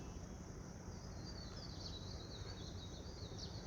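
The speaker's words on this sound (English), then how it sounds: "the sounds of the birds" Birds sing in a still mountain setting, with thin high chirps and short warbling phrases drifting in from a distance over a soft, steady natural hush.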